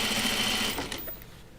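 A sewing machine hums close up, top stitching fabric for a laundry basket, a fast steady whir that runs for most of a second before slowing and cutting off.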